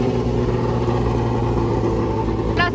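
Two BMW M1 race cars run at the Dijon-Prenois circuit. Their engines give a steady, loud mechanical drone, and a sharp short burst of revs comes near the end.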